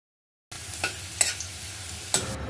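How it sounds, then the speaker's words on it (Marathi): Garlic dropped into about three spoonfuls of hot oil in a wok gives a soft, steady sizzle after a brief silence, with a few faint stirring clinks and scrapes and no talk. "आपण इथे कढईमध्ये साधारणपणे 3 चमचे गोडे तेल गरम करत ठेवलेलं आहे। त्यात जी लसूण घेतली होती ती आपण टाकायची आहे।"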